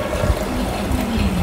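Liquid pours steadily into a blender jar, a continuous watery splashing and gurgling that stays fairly loud and even for the whole stretch, with no talking over it.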